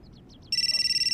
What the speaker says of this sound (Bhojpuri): केहू के फोन आ रहा बा।